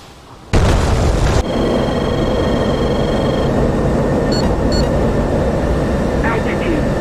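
In the DCS combat flight simulator, a sudden loud explosion bursts over the continuous roar of a jet engine, and brief clicks and tones are heard through the cockpit sound.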